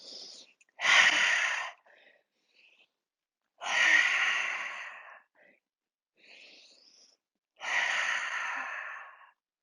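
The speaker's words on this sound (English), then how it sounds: "Inhale up, exhale, tongue out, sound out." Three long, forceful open-mouthed exhales with the tongue out, breathy and voiced, come at steady intervals during a yoga class, each one loud and close and followed by quieter inhales.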